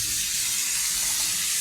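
Onion and garlic paste hits hot oil for a prawn and mukhi kochu (taro) curry, giving a steady, loud, close hiss that runs unbroken with no talk.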